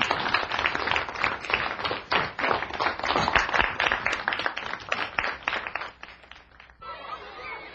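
A group of people clapping together, dense lively applause swelling and fading over several seconds with scattered chatter mixed in before it dies down.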